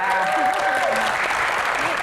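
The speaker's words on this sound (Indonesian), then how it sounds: "teman-teman kita berikan tepuk tangan juga untuk rekan-rekan mahasiswa yang ada di sini menemani kita" Audience applause for university students at a Q&A event with a band, steady clapping throughout with a voice talking over it.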